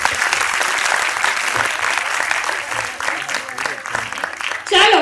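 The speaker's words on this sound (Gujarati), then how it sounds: "એકવાર ફરીથી તાળીઓ થઈ જાય." An audience applauds at an annual day school or community event, steady dense clapping throughout, fairly loud and close, with a brief burst of cheering or whistling near the end.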